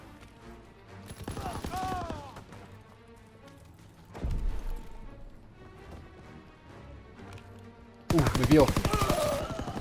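Rapid bursts of video game gunfire ring out in several loud volleys, with a sharp burst near the start and a heavy one near the end, while a player speaks briefly over the shooting.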